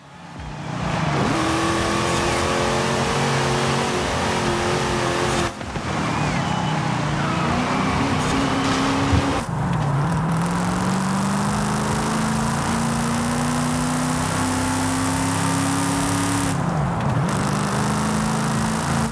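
A restomod car in Forza Horizon 5 drives hard, its engine droning and rising in pitch through long gear pulls with brief drops at shifts, loud and continuous with a faint voice underneath.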